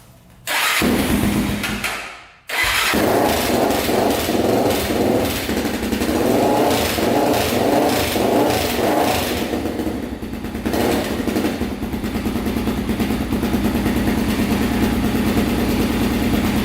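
A Honda 400ex ATV with a 416cc big bore engine cranks briefly, cuts out, then fires up and settles into a loud, steady, rapid-pulsing idle close by.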